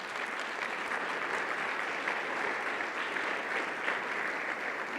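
A church congregation at a Sunday service claps together in steady, sustained applause, a dense even patter of many hands heard from a moderate distance without speech.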